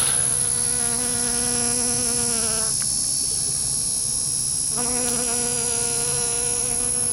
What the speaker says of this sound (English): I'm gonna try and get a little bit more footage of this bees collecting pollen